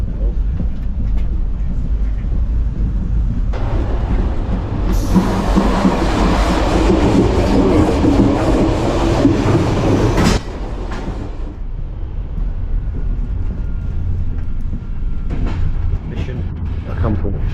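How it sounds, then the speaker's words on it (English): Passenger train from Budapest to Bratislava running on rails, a steady loud rumble and rattle of the carriage with a louder roaring stretch in the middle, heard from inside the train with some faint voices. "So how long are we on this here train?"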